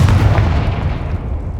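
A Confringo blast spell in Hogwarts Legacy goes off as one loud, heavy, booming explosion up close, then rolls off into a low rumbling decay.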